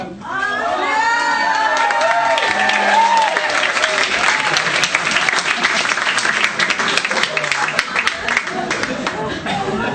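A theatre audience at an Edinburgh Fringe comedy show breaks into loud, sustained applause with cheers and shouts, the clapping swelling and then holding dense and steady for several seconds.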